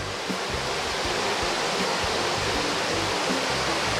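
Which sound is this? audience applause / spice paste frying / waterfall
waterfall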